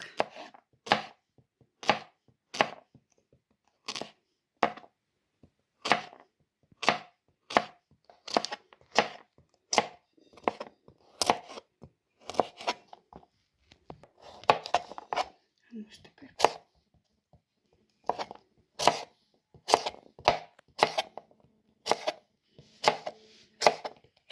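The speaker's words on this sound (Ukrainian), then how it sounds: "Огурки буду нарізати так" A knife chops cucumbers for a salad, striking the board in quick, regular close-up chops that run in bursts with brief pauses between them.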